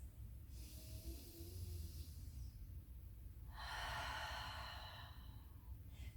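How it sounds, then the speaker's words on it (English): Two slow, deep breaths during somatic breathing, each a soft airy hiss drawn into the rib cage, faint and close with a pause between them. "So I'm breathing into my hand and trying to expand this part of my rib cage as I inhale"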